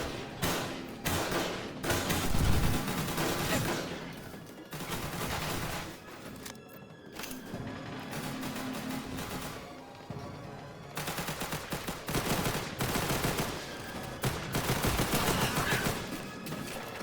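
Dense bursts of automatic weapon fire from the video game Destiny, loud and sustained with rapid overlapping shots and thuds, briefly dipping around the middle before resuming.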